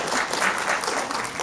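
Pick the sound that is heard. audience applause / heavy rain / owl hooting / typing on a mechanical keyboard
audience applause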